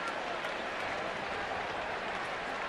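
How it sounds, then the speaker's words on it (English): A ballpark crowd at a Cubs versus Giants game in San Francisco applauds and cheers pitcher Barry Zito, a dense, steady wash of clapping filling the whole stretch, loud and continuous. "Anything he does right now, the fans cheer him."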